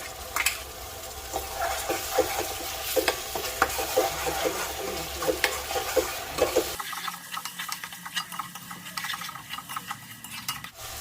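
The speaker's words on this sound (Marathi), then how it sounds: "आता आपण त्याच्यामध्ये ही टोमॅटोची प्युरी आहे ती टाकून घेऊया आणि पुन्हा एकदा छान प्रकारे परतून घेऊया." Tomato puree sautéing with fried onion and garlic in a pan, a busy sizzle with repeated spoon scrapes and clinks, close and fairly loud, turning thinner and quieter partway through.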